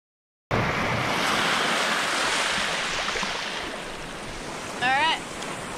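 Ocean surf washes onto a Hawaiian beach in a continuous broad roar, with wind buffeting the microphone. The rush eases slightly partway through, and a short chirping sound rises near the end.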